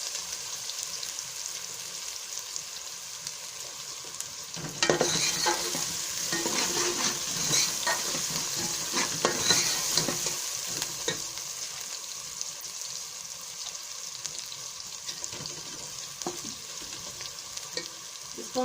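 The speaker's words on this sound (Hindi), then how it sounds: "लहसुन का पेस्ट डाल देंगे। इसको थोड़ी देर भून लेंगे।" Garlic paste fries and sizzles in a pan for kadhi pakora, a steady bright crackle that turns livelier as it is stirred and then settles into a constant close sizzle with no talk.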